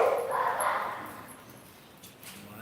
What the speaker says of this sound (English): Why they are barking?